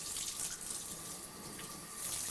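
Tap water runs in a steady, continuous hiss and splash while it warms up for a special-needs dog's bath, fairly close and even throughout with no voices.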